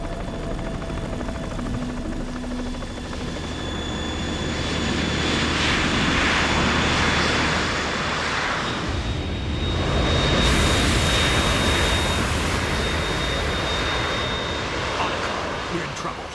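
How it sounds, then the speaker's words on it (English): Harrier jet engine in the Metal Gear Solid 2 video game, a loud sustained roar with a rushing whine that swells and surges through the middle, steady and close, over game music. "We're in trouble. It's the Harrier."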